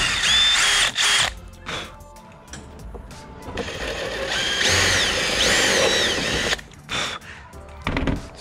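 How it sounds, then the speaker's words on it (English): Step drill cutting holes through a fiberglass Rocket Bunny V2 spoiler on a Miata, in several loud bursts of whining, grinding drilling separated by short pauses, close up with no talk. "So when you drill these holes,"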